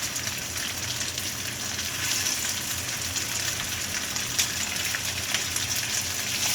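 Tofu sizzling face down in a hot pan on a stovetop over high heat, a steady, dense, close crackling hiss that holds without a break.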